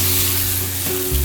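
Vegetable broth sizzles and fries in a hot pan for stroganoff, a steady close hiss with a low bubbling swell near the end, no talking.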